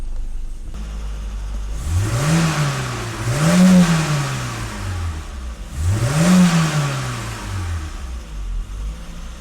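A BMW E30 engine, recently revived after sitting for four years, is revved up to 3,000-4,000 RPM three times from idle, each rise and fall loud and close with a rough, mid-pitched roar.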